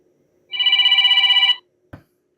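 A telephone rings once in a single trilling burst of about a second, clear and close in a quiet room, followed by a brief low thump.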